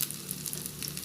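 Vegan ribs sizzle in hot oil in a pan, a steady, dense crackle and hiss with no voices over it.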